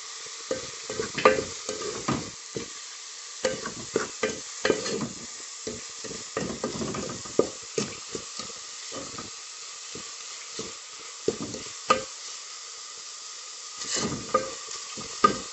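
Seasoning with cumin is stirred in a frying pan, a steady sizzling hiss broken by repeated scraping stir strokes at an uneven rhythm, close and moderately quiet, with no talking.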